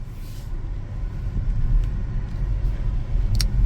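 Kia EV6 GT electric car rolling over rough, broken pavement, with a constant low road rumble and tire noise that swells slightly, plus a brief sharp knock near the end.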